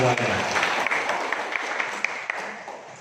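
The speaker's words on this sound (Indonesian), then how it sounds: "Tepuk tangan untuk kita semuanya." Audience applause at a village youth organization gathering in Jatirejo, Indonesia, a steady clatter of many hands that slowly thins, with a voice talking over the start.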